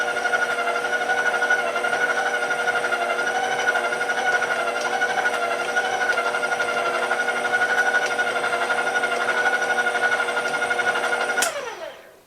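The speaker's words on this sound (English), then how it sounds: "I just want to mix it until everything's incorporated" A stand mixer whirs steadily as it mixes flour dough, a loud constant mechanical hum that cuts off abruptly at the end.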